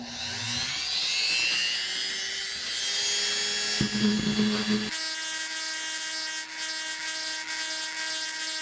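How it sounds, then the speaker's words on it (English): A diamond burr on a rotary tool grinds the hard back of a polished ocean picture stone to roughen it for gluing a sterling silver bail. Close, steady high-pitched whine with a shift in pitch partway through, no talking. "that was a diamond burr used to rough up the back where the glue is going to attach"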